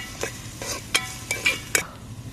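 Onions with rock salt sizzling in a pan as a spoon stirs them, a soft frying hiss under a few sharp scrapes and clinks against the metal.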